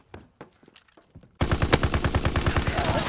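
Gunfire in Call of Duty: WWII: after a few scattered quiet sounds, a loud, rapid burst of automatic weapon fire erupts and keeps going in a steady rhythmic stream.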